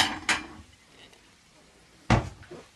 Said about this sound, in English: Excuse me a second while I grab a plate.